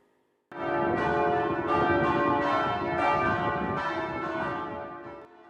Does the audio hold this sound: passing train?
no